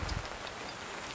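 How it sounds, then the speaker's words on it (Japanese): Heavy rain falling at a hillside campsite with cabin sites, a faint, steady hiss with a few brief drips near the start, no voices. "雨ちょっと強すぎるな。"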